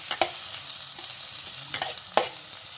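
Onions and tomatoes sauté in a pan for a village-style chicken curry, a low steady sizzle punctuated by a few sharp clacks of a spoon stirring against the pan.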